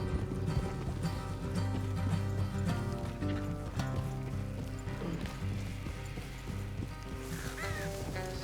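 Horses' hooves clip-clopping in the video game Red Dead Redemption 2, steady trotting footfalls under a continuous music and ambience bed, moderately loud throughout.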